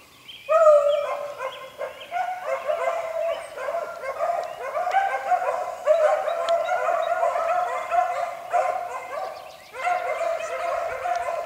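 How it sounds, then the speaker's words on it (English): A pack of gun dogs barks continuously, several voices overlapping in a loud, busy chorus that keeps going with brief dips, close by and with no talking over it. "Doing what a gun dog pack should do."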